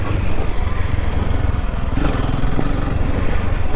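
A Honda CRF300L Rally motorcycle engine running loud and close while riding off-road near a clear cut, a steady rough drone with a slight change in pitch partway through as it shifts down to second gear.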